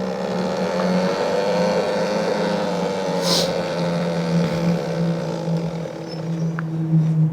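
A Komodo electric motorcycle accelerates in sport mode, its steady motor whine climbing over heavy wind rush that holds loud and close throughout the run.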